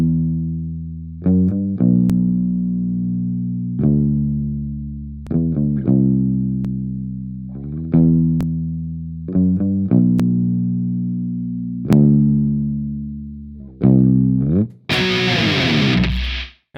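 A second electric guitar plays the riff, clean ringing notes and chords struck in a repeating pattern and left to decay, ending with a brief burst of noise.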